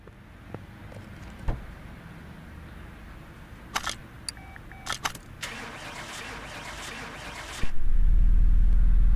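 In Car Mechanic Simulator 2018, a game car engine cranks with a few clicks and clunks, then catches and settles into a loud, steady low running drone near the end.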